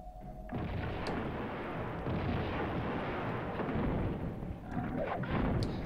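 Grenade blasts in Tomb Raider 2 erupt into a dense, roaring explosion that sustains loudly for several seconds after a quiet start, with a couple of sharp pops on top and no talk.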